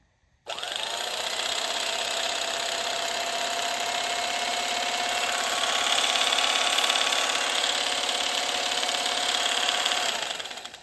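A Sunbeam A-1-A electric hedge trimmer motor whirs on abruptly and runs at a steady, buzzing drone for about ten seconds before winding down at the end.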